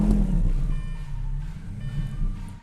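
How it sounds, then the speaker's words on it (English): Lamborghini Gallardo SE engine firing up after the ignition key turns, a loud low rumble that surges and settles into a steady idle, heard up close. "turn the key in the ignition until the car fires up"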